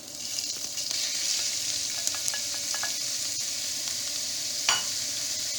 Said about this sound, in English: And now I put my meat to saute together.